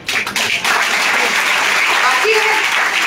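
Loud, sustained clapping from a seminar crowd fills the whole stretch as a dense, even roar, with faint voices showing through near the start and briefly in the middle.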